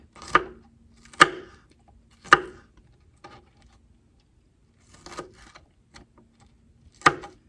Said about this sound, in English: We'll go through and make sure we have all of it good and chopped well.